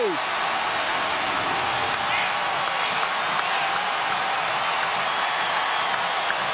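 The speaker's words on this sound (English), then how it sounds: "This crowd has gone berserk here at the American Airlines Center." A packed basketball arena crowd roars at the American Airlines Center in Dallas during a late playoff game against Los Angeles, a loud, unbroken wall of cheering that holds steady throughout.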